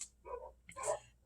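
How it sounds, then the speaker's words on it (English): Dogs barking at a neighborhood dog outdoors, two short faint barks or yips in quick succession, distant and quiet. "A neighborhood dog is out there harassing them."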